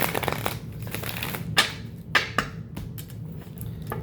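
Deck of cards shuffled by hand, soft riffling and a few sharp snaps and taps standing out, close and moderately quiet with no talking.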